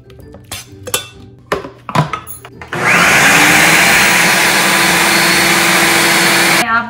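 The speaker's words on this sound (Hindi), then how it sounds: "अब आपने लेना अपना चॉपर, ग्राइंडर जो भी, और उसमें आप ये डालेंगे अपना एग प्लांट।" A chopper-grinder whirs loudly and steadily for about four seconds as it blends eggplant for baba ghanoush, following a few clattering knocks of ingredients going into the jar.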